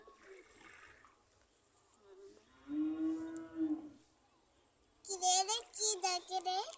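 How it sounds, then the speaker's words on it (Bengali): A cow moos twice nearby, long low calls, with a voice chattering between and after them. "হাম্বা ডাকে।"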